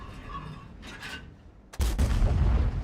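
Tank gun fired in the World of Tanks video game from a 50TP Prototyp, a sudden loud boom that cuts in partway through and leaves a sustained rumbling roar after a quieter stretch.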